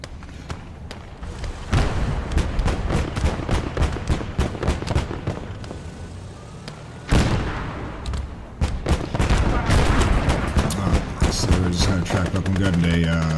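Infantry gunfire in Call to Arms - Gates of Hell on the WWII Eastern Front: dense, sustained volleys of rifle and machine-gun fire with heavy thumps, loud and continuous, swelling sharply at two points, with a voice talking at times.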